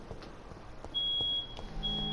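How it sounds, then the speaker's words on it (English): A smoke alarm sounding in the game Vampyr, a thin steady electronic tone holding for about half a second, breaking off, then returning over a low background rumble, with no talk. "And there goes the smoke alarm again."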